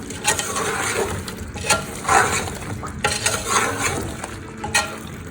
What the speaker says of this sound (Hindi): हम घिया को थोड़ा सा गोश्त के साथ बस भून लेते हैं। 1 से 2 मिनट के लिए इसकी भुनाई कर लेते हैं।